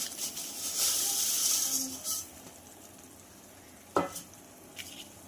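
Vermicelli being stirred into boiling water in a pot, with a soft bubbling hiss and a few sharp spoon scrapes and knocks against the pot, quiet and close with no talking.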